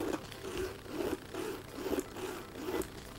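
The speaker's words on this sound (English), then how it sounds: "This zipper is nicer than the other one just now." The zipper on the front pocket of a Coach Parker crocodile-embossed handbag is pulled in several short, close, soft rasping strokes with a steady back-and-forth rhythm.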